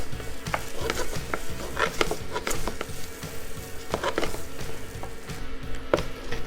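Rice toasting in a pan with sauce for porcini risotto, a wooden spoon scraping and stirring in irregular strokes over a soft steady sizzle, close and unaccompanied by talk.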